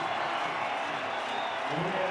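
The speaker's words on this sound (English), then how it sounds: "Well, the fans have something to cheer, the Indian fans." Indian cricket fans cheering and applauding in a packed stadium during a Champions Trophy final, a steady, broad crowd roar with no individual voices standing out.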